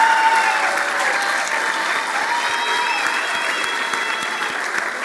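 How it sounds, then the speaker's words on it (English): Steady applause from an audience at a big wave surfing awards ceremony, honoring family support members; sustained clapping fills the whole stretch at an even, moderately loud level with faint crowd murmur beneath. "a little round of applause for all of our family support members."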